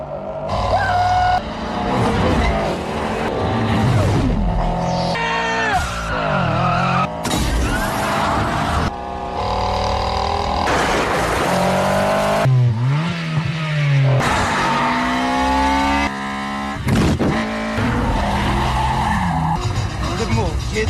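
Roaring engines, revving and screeching tire skids from a 2 Fast 2 Furious street race, sustained and loud throughout, layered over music and voices.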